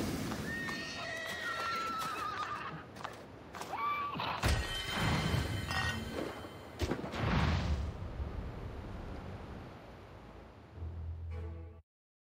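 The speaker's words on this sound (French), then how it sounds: "Oh non, les chevaux." Horses whinnying in alarm amid a blaze in the video game Trine 5, several loud neighs over a dense crackling, crashing background with hoof clatter, fading to a low rumble at the end.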